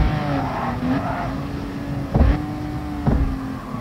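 A race car in GT Sport brakes hard into a tight corner. A steady engine drone carries a whining note that dips and shifts, and two short, sharp tyre scrubs cut through it. No one speaks over the sound.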